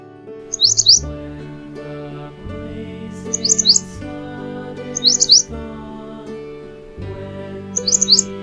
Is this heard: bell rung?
no